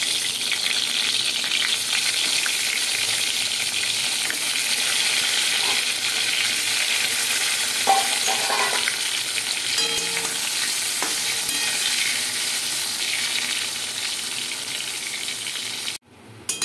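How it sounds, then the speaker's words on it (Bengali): Eggplant pieces fry in hot oil, a steady broadband sizzle that holds close and loud for about sixteen seconds, with a few faint clinks of stirring partway through and an abrupt cut near the end. "এই তেলের মধ্যে বেগুনগুলো ভেজে"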